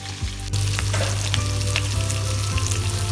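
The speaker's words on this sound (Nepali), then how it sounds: "त्यसपछि क्याप्सिकम एड गर्छौँ र त्यसलाई पनि 1 मिनेटसम्म फ्राई गर्छौँ" Onion and capsicum fry in a pan for paneer chilli, and a loud, close sizzle swells suddenly and then holds steady with faint stirring.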